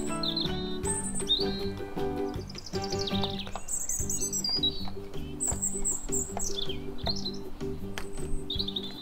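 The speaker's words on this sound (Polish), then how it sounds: "Ach, uwielbiam tą ciszę i śpiew ptaków." Cartoon birds in a Lego Friends animation chirp and tweet in quick, bright bursts throughout, layered over steady background music.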